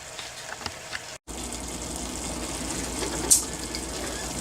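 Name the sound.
ground beef frying while being stirred for chili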